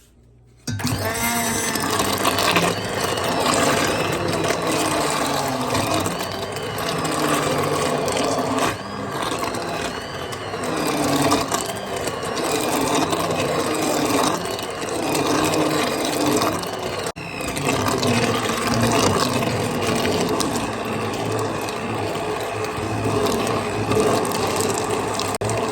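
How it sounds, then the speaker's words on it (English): An immersion blender whirs steadily through homemade cranberry sauce on a stove, a continuous loud motor drone with rattling, churning texture lasting about twenty-five seconds, without talk. "I'm going to come back with the immersion blender too."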